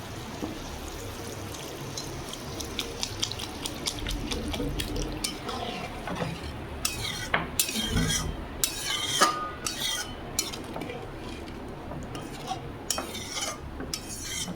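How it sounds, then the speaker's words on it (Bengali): Water is added to a pan of spiced red lentil curry, giving a bubbling sizzle and splashing, followed by repeated metal spoon clinks and scraping against the pan. "আর একটু সামান্য জল দিচ্ছি"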